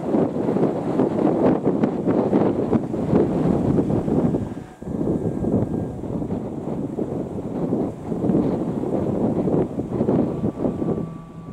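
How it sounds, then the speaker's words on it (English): Strong wind buffets the microphone at Whitehills, a small fishing village on the Moray coast in Aberdeenshire, Scotland, with loud continuous roaring gusts that dip briefly midway and surge again. "It's windy."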